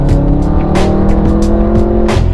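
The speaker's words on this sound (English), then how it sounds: "The sound from these downpipes is glorious" Loud, close exhaust roar from a 700 bhp BMW F10 M5 with Evolve Stage 2 tune and downpipes, a steady, rasping engine note under hard acceleration with quick crackling bursts.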